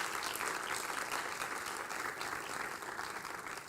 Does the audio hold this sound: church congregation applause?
yes